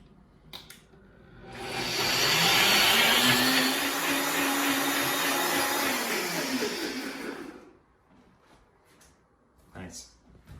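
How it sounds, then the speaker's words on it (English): A NutriBullet blender whirs loudly for about six seconds, blending ingredients for a bronze fennel simple syrup, starting and stopping abruptly, with brief clicks and handling noise before and after. "I've got my NutriBullet here, which will suffice just fine. So I'm just going to blend everything together."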